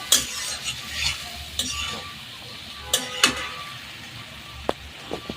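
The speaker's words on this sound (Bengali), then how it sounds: "একটু নাড়াচাড়া করে নিচ্ছি।" Shrimp frying in a pan with turmeric and salt is stirred, giving a steady close sizzle broken by several sharp scraping clinks of the utensil against the pan.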